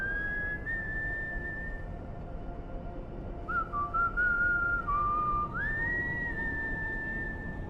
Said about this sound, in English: Is he whistling?